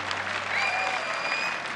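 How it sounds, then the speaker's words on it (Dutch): A concert audience in a theatre applauds a band loudly and steadily, a full, sustained roar of clapping with a faint whistle-like tone gliding through the middle. "Maak een heel groot applaus voor deze fantastische band"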